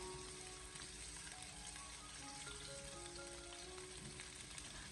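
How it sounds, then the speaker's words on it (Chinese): Sliced pork belly stir-frying in a wok over low heat, a steady dense sizzle and crackle of rendering fat, continuous and close with no voices. "首先我们将切好的五花肉放进锅里面，开小火先把它翻炒一下"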